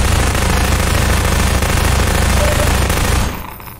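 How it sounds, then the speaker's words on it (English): A submachine gun in Half-Life 2 fires a dense, continuous burst at close range for about three seconds, loud and unbroken, then cuts off abruptly. "Let's test out the SMG"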